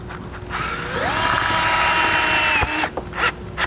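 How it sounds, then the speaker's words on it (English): A power drill whirs up and drives a self-tapping screw for about two seconds while wiring trailer tail lights, then stops with a few clicks and clatters. "I'm just going to kind of drill it in right down here."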